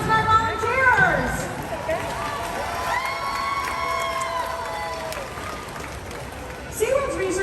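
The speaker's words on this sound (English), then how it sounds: "How about a big round of applause for our killer whales and our volunteers?" Crowd at a killer whale show at SeaWorld Orlando cheers and applauds, a broad wash of shouts and claps rising and falling, with an announcer's voice and tonal music layered over it.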